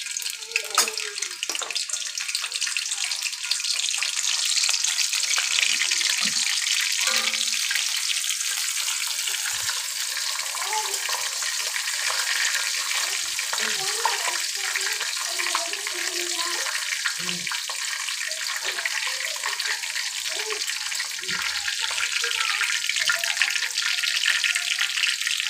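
Whole spices sizzle in hot oil for a moong dal muri ghonto, a continuous loud frying hiss with occasional crackles and faint spoon clinks.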